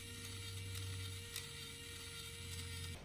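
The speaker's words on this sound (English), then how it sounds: "I can definitely tell that's the sound of a rattlesnake" Toy robotic rattlesnake (Zuru Robo Alive) rattling with a steady mechanical whirring buzz and faint ratcheting clicks that cut off near the end, with no talk.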